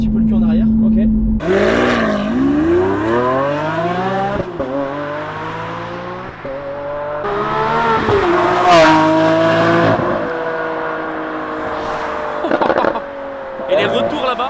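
Lamborghini Aventador Ultimae engine accelerating hard on an open road, loud close roar sweeping upward through repeated gear changes, with a brief pop and a person talking over it.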